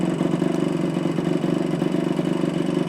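A 1973 Suzuki TC125 two-stroke engine idles steadily up close, with a fast, even putter and a slight mechanical clatter.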